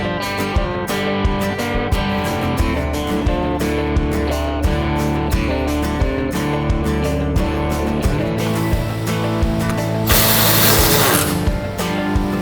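A ratchet tightening the canopy side bolts on a 2024.5 Ford Raptor during a Maxliner Venture canopy install. It makes rapid, repeated clicking in close, steady bursts, with a brighter rasp near the end and no one speaking.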